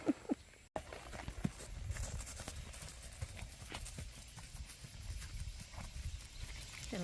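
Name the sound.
Tennessee Walking Horse hooves walking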